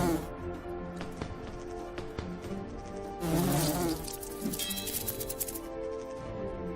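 Wasps in the video game Lords of Xulima drone in a thin, steady buzz with scattered clicks, swelling into a louder burst of buzzing midway before settling back, fairly quiet overall.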